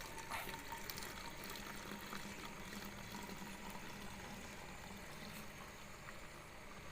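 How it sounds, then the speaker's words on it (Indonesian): Oil distilled from plastic waste is poured from a cooling can into a mineral-water bottle, giving a faint, continuous liquid trickle and gurgle with a bubbly, filling character and no talk. "pindahkan minyak dari kaleng pendingin ke dalam botol mineral."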